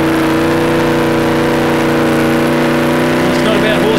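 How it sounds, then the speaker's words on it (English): A home-built P76 special 4x4 revs its engine on a steep climb, giving a steady, close mechanical drone throughout with a commentator talking over it. "This is Derek Smythe and Mike Reapin in the Brunton Engineering home build P76 special."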